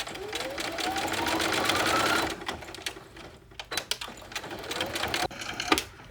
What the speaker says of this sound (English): putting it under the sewing machine and doing a few forward and backwards straight stitches